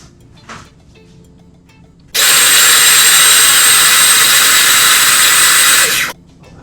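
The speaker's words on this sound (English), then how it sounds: "I'm going to blend this up" Blender whirs loudly for about four seconds blending chimichurri sauce, starting and stopping abruptly, after a brief quiet moment with a small clunk.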